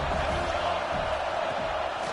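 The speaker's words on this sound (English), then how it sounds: "Big 3rd down as the crowd gets behind this defense." Broadband crowd roar from a packed stadium crowd in the college football video game NCAA 26, a steady wash of cheering that stays loud and continuous through the whole moment before a third-down play.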